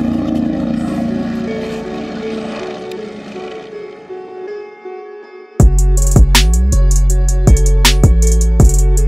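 A helicopter's rotor whirs and drones, swelling and fading as it passes overhead, then gives way to louder rhythmic music.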